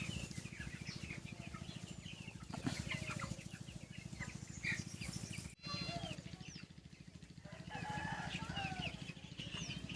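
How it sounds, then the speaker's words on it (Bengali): Broiler chickens cluck and cheep continuously in a straw-bedded shed, many birds chattering close by over a steady low machine hum, with a brief dropout midway. "খড়ে কীভাবে মুরগি পালন হচ্ছে"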